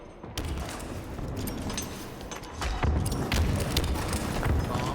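Grenades explode in a Halo esports match with repeated booming blasts and crackling debris in a dense, continuous barrage of overlapping bursts at close range.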